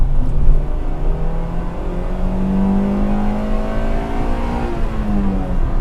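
A car engine revs up and down during heel-and-toe, rev-matched downshifts; a loud, close motor rises and falls in pitch in smooth sweeps, with no talking.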